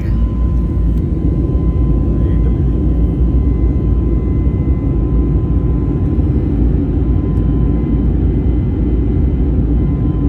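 Steady, loud low engine roar heard from inside a passenger airplane cabin as it climbs after takeoff, a continuous unbroken drone with a faint high tone on top, no talking.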